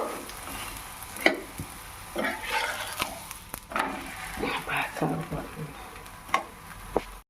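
Sweet potato bobbatlu cooking in ghee on a pan, with soft sizzling and frying under occasional scraping and tapping of a utensil, close and moderately quiet with irregular bursts.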